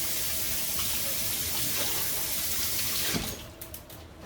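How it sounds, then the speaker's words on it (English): Tap water runs steadily into a sink as hands are washed, a continuous close rushing hiss that drops away near the end as the flow is turned off and a few drips and clatters follow. "I'm gonna wash my hands"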